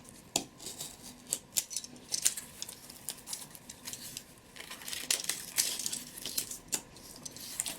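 Scissors snip through paper for a rustic farmhouse Fourth of July craft, with a close run of sharp clicks and crisp cuts mixed with paper rustling and small handling knocks, no talking.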